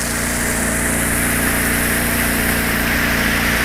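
A steady, loud boat engine drones continuously at high revs, a constant mechanical roar with no pauses or talk.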